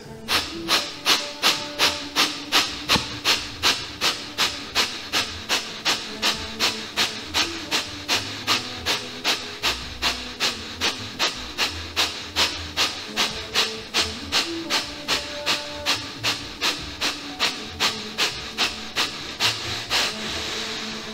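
Kapalabhati yoga breathing, a long run of forceful nasal exhalations at a fast, even pace, each a sharp hissing puff, about two per second for twenty seconds, close and alone with no talking.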